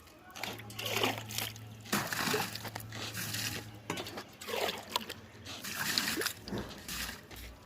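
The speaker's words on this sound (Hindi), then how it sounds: "इसको पानी से कोयलों को साफ करें।" Water is splashed onto the coils of a split air conditioner during cleaning, giving irregular sloshing and spattering bursts at low level, with a faint steady hum beneath.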